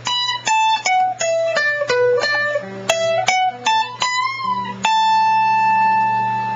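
An electric guitar plays a solo, quick picked notes stepping through a scale before a string bend up the neck into a long sustained note, close and loud with no talking.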